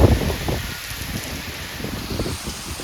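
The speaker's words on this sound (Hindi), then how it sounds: "तो यहाँ आ गई है खतरनाक बारिश।" Heavy rain falling in Dehradun, a dense constant hiss of drops with patters and gusty rustles, loud and close with no voices.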